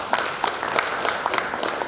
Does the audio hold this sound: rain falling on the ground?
no